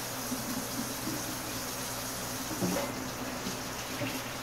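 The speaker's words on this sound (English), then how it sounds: "Get our hands washed up." Running tap water pours steadily into a sink as hands are washed in a home kitchen while making pizza, a continuous close splashing wash with small bursts of louder splatter.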